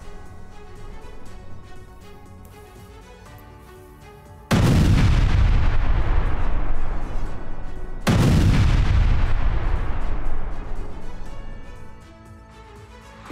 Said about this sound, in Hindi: रिहायशी इलाके के पास जबरदस्त धमाका